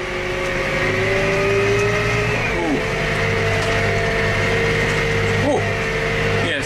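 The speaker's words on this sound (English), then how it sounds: "this tractor is a little bit underpowered for this load" A tractor engine labours under a heavy load of wet, weighty bales, drawing out a steady loud drone that holds the whole way through with small dips in pitch, close by.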